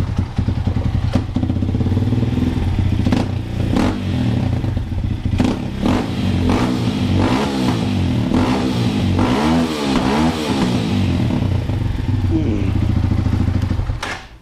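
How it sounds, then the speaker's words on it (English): A CSC TT250 motorcycle engine idles loudly up close, then is revved several times, the pitch rising and falling with each blip of the throttle. "Slap a couple revs for you ladies real quick."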